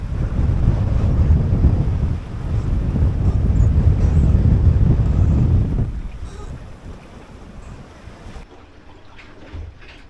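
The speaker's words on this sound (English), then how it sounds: "What the wind is like just at deck level here." Strong wind blasts across the deck of a 21 foot sailboat in high winds and building seas, loud steady buffeting of the microphone with water rush beneath, easing into a lighter gusty roar after about six seconds.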